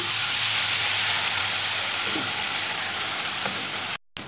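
Chilli powder and spices for a samosa-style pea filling sizzle and hiss in a hot pan as a splash of water goes in, a steady, loud crackling wash that runs almost unbroken before a brief dropout near the end.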